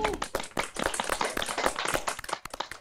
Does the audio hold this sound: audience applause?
yes